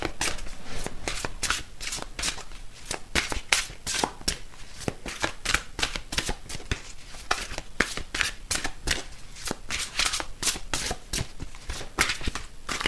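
Tarot cards are shuffled by hand in a dense, continuous run of crisp riffling snaps, close and steady throughout with no talking.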